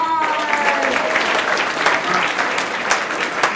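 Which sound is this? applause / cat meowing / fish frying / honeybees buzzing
applause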